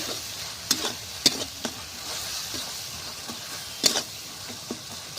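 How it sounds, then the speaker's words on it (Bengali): Spices with chili powder frying in oil for an egg curry, a continuous close sizzle broken by a few sharp scrapes and stirring clicks. "যতক্ষণ না মশলা থেকে তেল থেকে ততক্ষণ ভেজে নিতে হবে"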